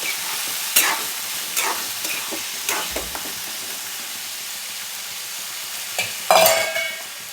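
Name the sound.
sautéing peas with tomato masala in a pan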